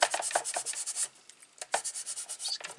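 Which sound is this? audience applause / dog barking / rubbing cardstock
rubbing cardstock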